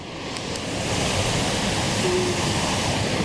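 Sea water churns and rushes behind the stern of a P&O Britannia cruise ship, a loud, steady broadband roar of turbulent wake that swells slightly and continues without a break.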